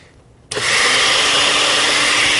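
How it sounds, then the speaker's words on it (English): A blender suddenly whirs to life after a brief quiet, pureeing a raspberry vinegar dressing with a loud, steady, high-pitched motor roar that runs unbroken to the end. "So this is going to puree up until it's nice and smooth."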